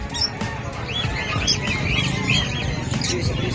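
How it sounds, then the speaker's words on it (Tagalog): Birds for sale at the Bocaue pet market chirp in quick, repeated high tweets over a steady busy market murmur, fairly close and continuous throughout. "Tignan natin mga ibon niya ngayon."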